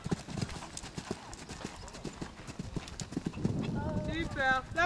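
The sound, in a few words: horse galloping hoofbeats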